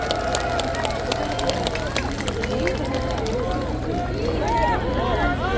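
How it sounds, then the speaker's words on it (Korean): An outdoor crowd at a People Power Party campaign rally in Seoul Station Plaza claps in a dense, rapid patter that thins out after a few seconds, with crowd murmur and talk running underneath. "큰 박수 주시기 바랍니다."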